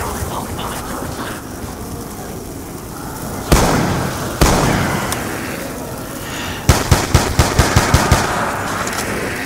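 Zombies blowing up in Call of Duty: Black Ops 2 Zombies mode, with loud sharp blasts followed by a rapid string of cracking bursts over a dense, noisy background of gunfire.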